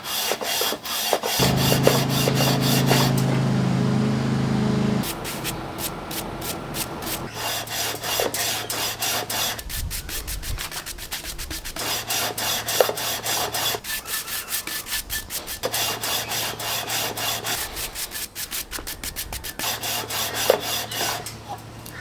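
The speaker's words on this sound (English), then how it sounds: "you can see here from the sandpaper that the radius is really starting to form into the fingerboard" A wooden guitar fingerboard is hand sanded to a radius with sandpaper, giving steady, close rhythmic back-and-forth scraping strokes with a few short pauses between passes.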